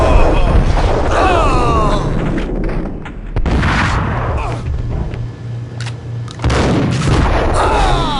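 Gunfire in the video game Max Payne, loud close shots and booming reports clustered at the start and end, with game voices and background sound in between.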